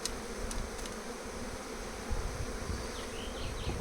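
Honey bees from a captured swarm hum steadily around an open hive as frames are handled, a dense continuous buzz with a few faint clicks and knocks.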